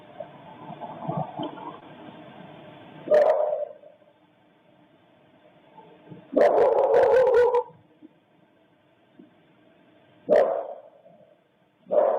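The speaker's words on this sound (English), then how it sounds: "Only one person heard the dog bark." A dog's barks come through a played recording as a few muffled, bursty outbursts separated by low background hiss, the longest burst in the middle and shorter ones near the ends, with no speech.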